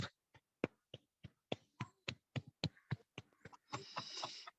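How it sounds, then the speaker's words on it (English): A group claps hands in a classroom setting: about fifteen separate, well-spaced claps of uneven rhythm, then a brief burst of overlapping clapping at the end, fairly close and alone. "join your hands and give clap"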